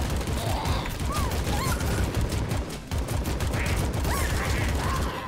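Rapid, dense gunfire from the roguelike shooter game AK-xolotl on PC rattles continuously, layered with short chirping effect sounds and a steady noisy game backdrop.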